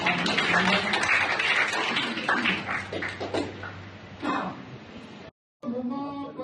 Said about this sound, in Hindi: तो जोरदार तालियों के साथ आपका स्वागत।